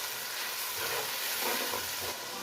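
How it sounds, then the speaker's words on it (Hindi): Garlic, ginger, green chili and tomato paste frying with browned onion for an aloo shimla mirch curry, giving a steady close sizzle and hiss with soft stirring scrapes throughout, no voices. "अब हम इसमें लहसुन, अदरक और हरी मिर्च, टमाटर का पेस्ट है वो ऐड कर देंगे। इसको अच्छे से भून लेंगे।"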